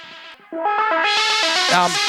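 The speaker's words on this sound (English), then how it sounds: "Part of what you're hearing there is the SEM filter." Bright modular synthesizer notes step through a quick melodic pattern, buzzy and resonant with a sweeping tone from an SEM filter, after a brief dip at the start.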